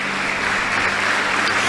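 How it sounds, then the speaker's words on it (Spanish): A church congregation applauds, a dense, loud wash of clapping that holds steady throughout without any talk. "yo quiero que le dé un fuerte aplauso al Rey de Reyes"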